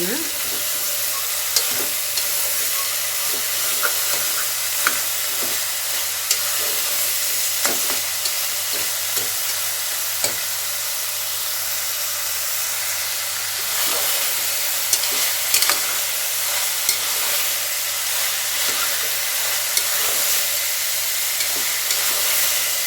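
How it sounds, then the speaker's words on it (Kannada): Bitter gourd pieces frying in oil, a constant bright hiss with intermittent scrapes and clicks of a spatula stirring the pan, close and without talk. "ಸ್ವಲ್ಪ ಎಣ್ಣೆಯಲ್ಲಿ ಚೆನ್ನಾಗಿ ಒಂದೆರಡು ನಿಮಿಷ ಎಣ್ಣೆಲೇ ಬೇಯಿಸ್ಕೋಬೇಕು"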